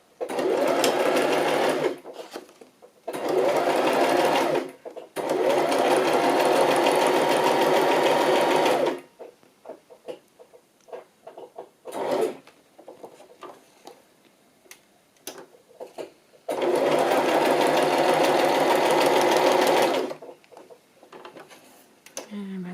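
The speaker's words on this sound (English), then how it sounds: "go forward, just do a little back stitch" A sewing machine stitches a journal card pocket in several long bursts, with brief back stitches and short stops between runs, running close and loud.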